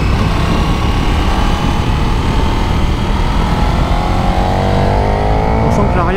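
A KTM SuperDuke 1290 motorcycle engine roars loud and continuous at speed, with wind noise and a rising pitch near the end as it accelerates.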